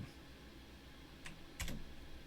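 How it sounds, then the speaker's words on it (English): Quiet computer keyboard typing, a few soft key clicks in short bursts over a steady room hum. "It's not like normal typing."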